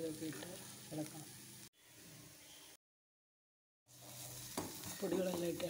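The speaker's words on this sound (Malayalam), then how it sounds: "സബോളയൊക്കെ മൂത്തപ്പോൾ ഇനി കുറച്ച് ഉപ്പ്, മുളക് പൊടി, ഗരം മസാല, കുരുമുളക് പൊടി ഇതൊക്കെ ഇട്ട് ഇളക്കണം." Fried onions with salt, chilli powder, garam masala and pepper being stirred in a pan: a close, steady sizzle with scraping and stirring strokes, broken by a short quieter stretch and a brief silent gap.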